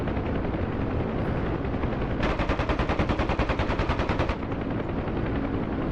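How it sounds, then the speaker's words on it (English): Helicopter door gun on a Huey UH-1H in DCS rattles off a loud, rapid burst of about two seconds, set over the steady drone of the rotor and engine. "Right gun shooting something on that hilltop."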